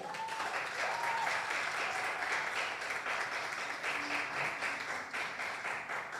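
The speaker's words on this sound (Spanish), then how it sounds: "un fuerte aplauso para el Señor" A church congregation applauds steadily and warmly for several seconds, a dense wash of clapping that fades slightly near the end.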